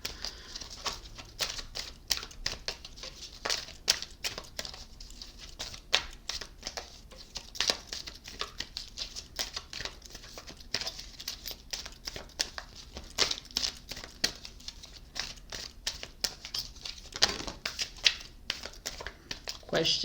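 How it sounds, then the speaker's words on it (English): Tarot cards are shuffled at length, close by, in a continuous crisp patter of flicks and slaps with sharper snaps scattered through, no one speaking. "Or just watch, because the shuffling can take forever."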